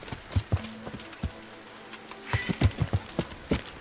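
Horse hooves clip-clop in a steady trotting rhythm in the video game Kingdom Come: Deliverance, close and clear, with a short pause in the middle before the hoofbeats resume.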